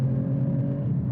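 A Mercedes-AMG E53 launches and accelerates hard, its engine note a loud, steady droning roar close by that holds for about a second, with no voices over it.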